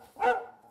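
A single dog bark in a dramatized French reading, one short mid-pitched woof rising and fading quickly, fairly close and alone without talk.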